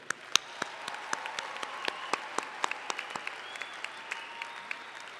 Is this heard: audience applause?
yes